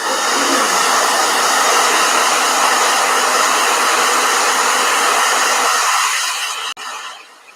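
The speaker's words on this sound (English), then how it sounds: "Oh boy. Blow dryer." A hand-held hair dryer runs at a watercolor painting session, blowing loud and close in a steady whoosh for about six seconds before it cuts off abruptly.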